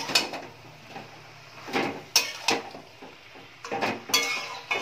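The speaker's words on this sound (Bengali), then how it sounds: "আবারও সবটা ভালো করে একটু মিশিয়ে নাড়াচাড়া করে নিচ্ছি।" Fried vegetables and bori are stirred in a cooking pot, with a spoon scraping and knocking against the metal in irregular bursts, close by and moderately quiet, with a single spoken word.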